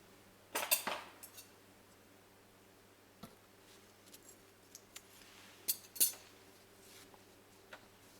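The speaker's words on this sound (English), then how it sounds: "then I'll cut this yarn." Scissors snip through crochet yarn during a flower pattern project, giving a few quiet, crisp cuts in a mostly still room with faint small clicks between.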